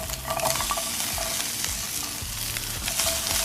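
Chicken sausages fry in a hot pan with a dense, steady sizzle and crackle, close and continuous, with occasional stirring scrapes and no talking.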